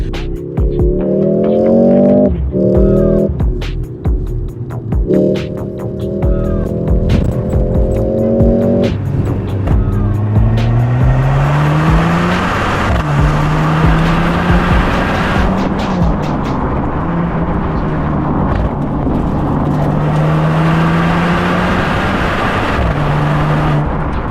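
A 2025 Mercedes-AMG GLC43 Coupe engine revs up through several gears, pitch climbing then dropping at each shift, loud and close, settling into a sustained roar with rumbling road noise.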